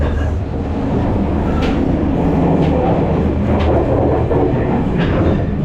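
A first class passenger train rolls between Colombo and Kandy in Sri Lanka, a loud steady rumble of wheels and carriage with faint periodic clacks over the rails, running continuously throughout.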